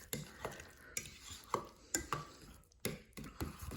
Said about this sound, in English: add whatever you want and just start mixing